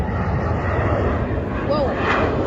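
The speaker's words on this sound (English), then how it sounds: "That is probably an A321." An Airbus A321 airliner at Philadelphia International Airport roars steadily overhead as a loud, broad engine rumble, with a voice briefly heard over the noise.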